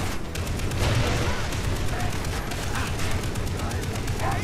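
A mounted turret fires during Far Cry 3 in a continuous heavy rattle with booming low rumble, loud and close, while a person talks over the shooting.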